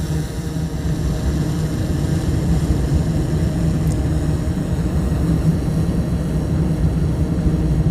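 A drone flies and climbs in altitude, giving a steady, loud whirring drone with broad noise that holds evenly throughout.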